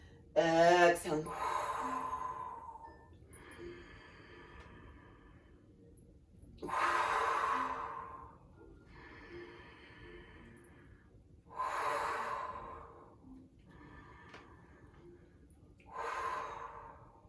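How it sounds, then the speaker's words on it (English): Deep yoga breathing, slow inhales and exhales in several long, rhythmic breaths that swell and fade at regular intervals, close to the microphone, with a sharp gasp near the start. "we're just gonna take that nice deep breath and we're coming in and out of the few. Inhaling, exhaling."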